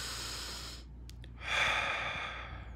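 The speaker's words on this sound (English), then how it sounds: "Take another deep breath." A slow, deep human breath, a long airy inhale swelling to a soft rushing peak and then easing off, close and intimate over a steady background hiss.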